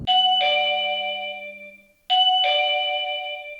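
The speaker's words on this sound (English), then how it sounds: "The doorbell rings." A doorbell chimes twice, each a clear two-tone ding-dong that rings out and fades, with a short pause between them.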